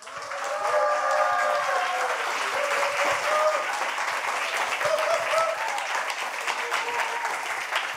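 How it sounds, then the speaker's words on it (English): A Science Slam audience claps and cheers to welcome the first candidate, dense steady applause filling the hall for the full stretch, with some faint voices and whoops mixed in. "let's welcome our first candidate with a big applause"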